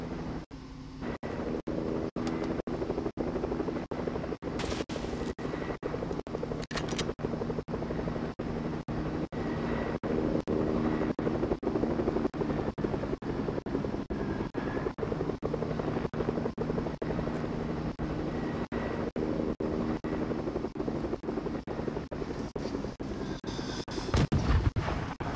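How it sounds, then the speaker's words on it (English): Steady helicopter rotor thumping chops rapidly and continuously throughout, fairly close, with a brief burst of noise near the end. "And there's still someone up in a helicopter."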